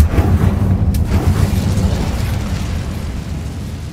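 A fire spell cast in Hogwarts Legacy bursts into a loud, booming explosion with a sharp crack near the start, then a dense rumbling roar that slowly tapers over several seconds.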